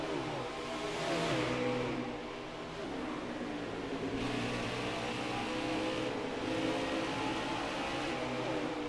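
Race car engines in NASCAR Heat 4 at Bristol, a steady layered drone of several cars roaring around the track, loud and continuous with shifting pitch and no talk.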